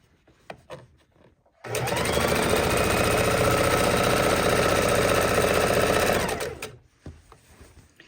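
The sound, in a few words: sewing machine stitching a tote bag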